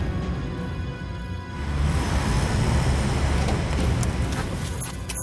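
A car turning around on a road, a steady engine and tyre rumble that swells midway and holds, with a faint whoosh of passing traffic.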